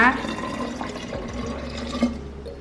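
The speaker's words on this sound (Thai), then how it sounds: "น้ำลงไปอีกนะคะ จนหมดเลยนะคะ" Water is poured into coconut-flour dessert batter inside a blender jug, a steady liquid trickle and splash heard under a woman's speech.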